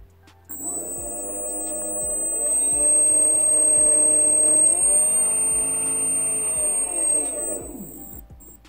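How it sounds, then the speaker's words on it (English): A beetleweight combat robot's spinner weapon on a quick bench test after its weapon speed controller was fitted, whining steadily up in pitch, holding, then rising again before winding down, close and loud, with faint periodic clicks underneath. "So yeah, next job is to get the spinner to run."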